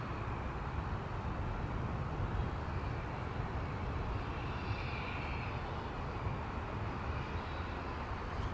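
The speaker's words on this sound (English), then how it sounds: "That would be an Embraer 175" An Embraer 175 LR regional jet at Dallas Fort Worth Airport gives off a steady, broad engine roar that holds constant throughout, distant and unbroken, with no voices.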